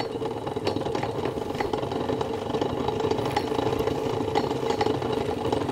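A Hexagon sewing machine made in Cleveland, Ohio, winds a bobbin with a steady, close mechanical whir and light rattling clatter that runs evenly throughout, with no talk.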